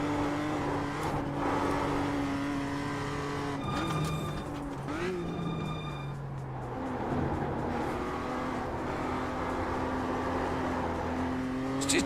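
A weird-handling clown car in a sim-racing video game revs and drones, its engine pitch rising and falling through gear changes with occasional tire squeal, while a voice talks over the continuous game audio.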